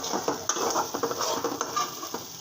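Potato and egg curry sautéing in a pan with a bay leaf, stirred briskly: quick rhythmic scrapes and clinks of a utensil over a soft sizzle, close by with no voices.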